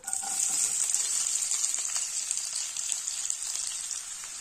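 Chopped onions sizzle in hot oil for a tomato kurma, giving a steady bright crackle that is close and fairly loud, easing slightly toward the end.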